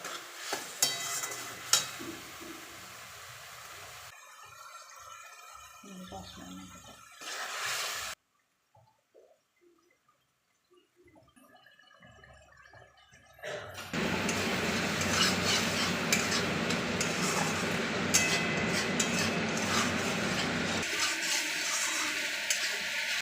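Spice masala with ginger, cumin, coriander, turmeric and tomato sautéed and stirred in a pan, heard as intermittent sizzling broken by a near-silent gap, then a louder, steady sizzle toward the end.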